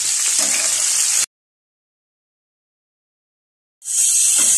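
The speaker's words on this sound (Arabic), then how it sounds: "انا هبتدي ان انا احمر الصدق بتاعي" Egyptian Alexandrian-style sujuk sausage frying in oil in a pan, a bright, hissing sizzle up close, broken by a gap of silence in the middle before the sizzle returns.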